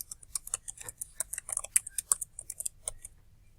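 Fingers type a website address on a computer keyboard, a quick, close run of light, irregular key clicks lasting a few seconds with no talk.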